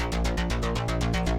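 Dry synth bass line, a pulsing electronic bass riff with no effects, steady repeated notes played loud and alone.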